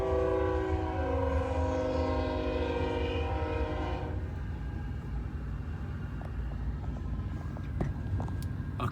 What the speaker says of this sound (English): I'll show you this train because I missed the last time.